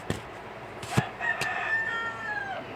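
A rooster crows once, a drawn-out wavering call that rises and trails off over about a second and a half, preceded by a few sharp knocks nearby.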